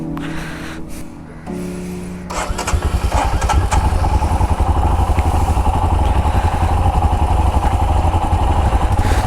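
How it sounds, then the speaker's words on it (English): A Royal Enfield Himalayan BS6 motorcycle cranks and catches after a couple of quiet seconds, then settles into a close, steady, loud idle with an even thumping pulse. "Always when you start your bike in the morning, please keep it in idle for 1 to 2 minutes."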